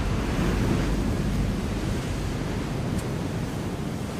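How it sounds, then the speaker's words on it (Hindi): Storm-driven sea waves roar in a dense, continuous wash of surf and wind, loud and steady throughout with no voices. "समुद्री लहरें इतनी ऊपर उठकर हमारी तरफ आ रही हैं। लहरें बहुत तेज हैं।"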